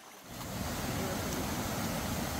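Continuous rushing of river water during a crossing in the jungle, a broad steady wash that swells up after a brief quiet start and stays loud and close throughout.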